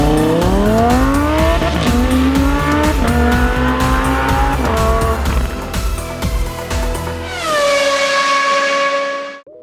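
Racing car engines scream at close range in a retro PlayStation 1 racing game such as early Gran Turismo, with rising and falling revs through gear changes and tire squeal, ending in a sustained high whine that cuts off.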